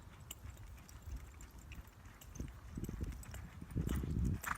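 Horse hooves clip-clopping on the ground as the horse canters in a training session, a steady rhythmic run of footfalls that grows louder and closer toward the end, with no talking.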